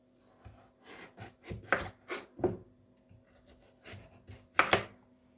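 A knife cutting pumpkin into three-finger-wide pieces on a board, a quiet series of separate chops and scraping cuts at an uneven pace, close and alone.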